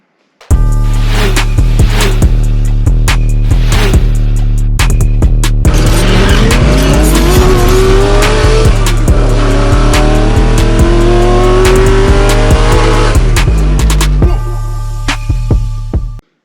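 A 2022 Subaru WRX engine with its stock exhaust roars loudly and close by, revving up and down repeatedly with a rising pitch as the throttle opens, with no talking.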